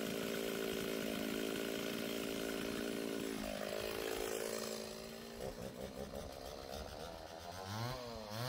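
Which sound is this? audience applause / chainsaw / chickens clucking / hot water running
chainsaw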